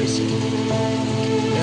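Rain falls steadily on a surface, a constant close patter over a faint humming tone throughout.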